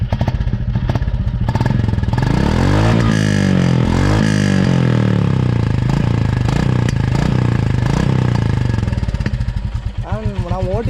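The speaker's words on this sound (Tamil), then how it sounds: "அண்ட் வண்டியோட சவுண்டு பாருங்கள்." Royal Enfield Classic 350 motorcycle engine running near and loud with a steady low exhaust thump and rising revs, mechanical clatter throughout, and someone speaking over it.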